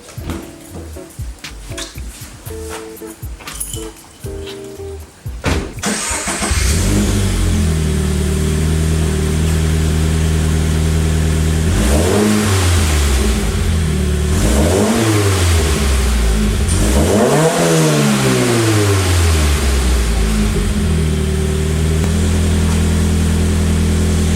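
A Toyota 86 drives at night in the rain, its engine loud and steady with several rising rev sweeps as it accelerates through gears, after a few seconds of quieter rustling at the start.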